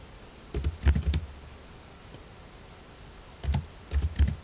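Two brief bursts of typing on a computer keyboard, a few quick clicks each, close by with a quiet pause between them and no voices.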